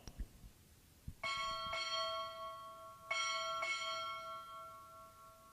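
A ship's bell at a Navy boot camp graduation ceremony rings four times in two quick pairs, each stroke clear and resonant with a lingering metallic ring between strikes.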